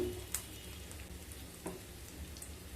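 Half a spoon of asafoetida hits hot oil in a pan, giving a soft, steady sizzle broken by a couple of sharp pops. No one talks.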